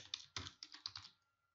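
Brisk typing on a computer keyboard while entering text into a PowerPoint text box: a short burst of sharp, close key clicks that trails off into quiet.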